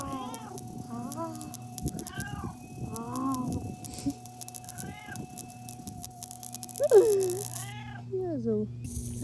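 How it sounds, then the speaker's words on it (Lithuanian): A cat meows several times in a row, close and clear, with one sharper, louder cry near the end, while people talk and exclaim around it. "Katinas."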